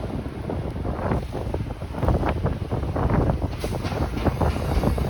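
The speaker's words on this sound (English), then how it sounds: "Wow, it's so blustery outside." Strong blustery gusts on a downtown Toronto street during flurries batter the microphone, a loud continuous low rumble with fluttering buffets and no talking.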